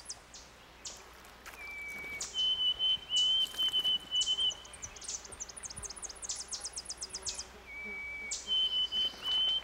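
Bay-breasted warbler, yellow-rumped warbler and dark-eyed junco at a forest puddle among old-growth spruce, giving thin high chips and rapid trills in repeated bursts, fairly close, with no talking.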